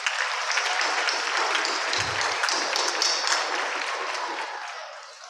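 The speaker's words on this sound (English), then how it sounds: "Let's give them a round of applause" A school event audience at Maple Heights High School applauds a speaker, with dense sustained clapping throughout, holding steady before tapering slightly at the end.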